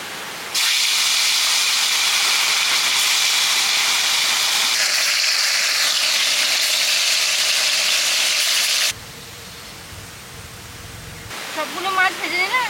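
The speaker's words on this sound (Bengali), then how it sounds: "সরষের তেলে মাছগুলো ভেজে নিচ্ছি।" Fresh pond fish frying in mustard oil on a village cooking fire, a loud, dense, unbroken hiss that drops sharply in level partway through, followed by a brief voice over the quieter sizzle near the end.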